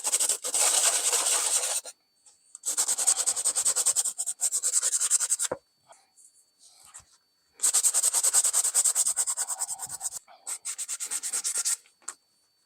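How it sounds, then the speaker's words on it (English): Rhythmic hand sanding of a knife handle with 80-grit paper rasps back and forth in several long bursts, separated by short pauses and faint handling noises, close and clear. "I'm gonna take the Dremel and a hand sander and just have at it."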